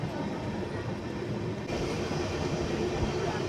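Inside the Ratnachal Superfast Express pulling out of Annavaram station, a continuous low rail rumble builds, growing slightly louder partway through.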